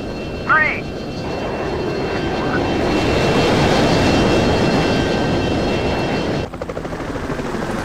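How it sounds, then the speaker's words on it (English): Roaring jet engine noise from F-22 fighters at full afterburner in the Total Air War flight simulator game, a steady loud broadband rumble that swells and holds, then drops abruptly near the end. "We'll put our engines on and go full power with our afterburners on."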